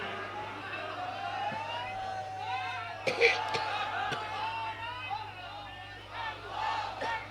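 Crowd at an open-air religious rally shouts a takbir chant in response to a call, voices rising and falling in a loud, reverberant mass with a few sharper bursts of shouting partway through.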